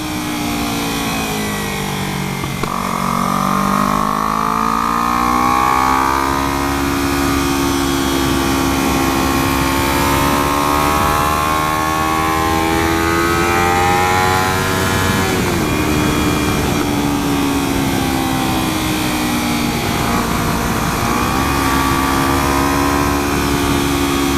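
A Kawasaki Ninja 300 motorcycle engine drones loudly while riding, rising and falling in pitch through gear changes and throttle shifts, with steady wind rush throughout and no speech.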